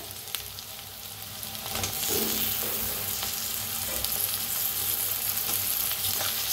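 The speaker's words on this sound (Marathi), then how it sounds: "टमाटरला कांद्याला बी आणि भाजूया आपण" Onion and tomato fry in a pan for a tiffin onion-dal recipe, giving a steady, fairly quiet sizzle that swells a little louder after the first couple of seconds, with faint scraping stirs and no voices.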